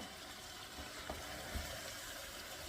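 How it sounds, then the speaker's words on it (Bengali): Beef simmering and frying in a pan while being stirred, a faint continuous sizzle with soft scraping touches, quiet and close, no voices. "এখন হচ্ছে শুধুমাত্র আমি বারে বারে মাংসটা নাড়া দিয়ে যাব"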